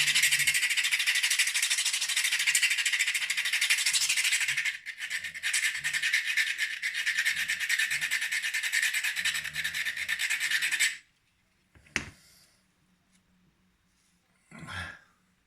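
A Spyderco Byrd Robin 2 knife blade is reprofiled freehand on diamond sharpening stones, with steady, continuous rasping strokes for about eleven seconds, then silence broken by a couple of brief scrapes.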